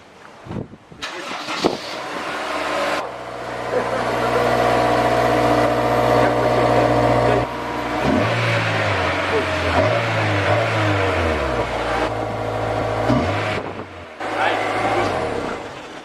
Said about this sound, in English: Cold start on the stock exhaust for the last time.